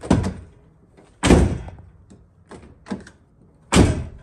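Car door on a drift car opened and shut several times, with sharp thuds and slams at irregular intervals, close and loud, and no talking.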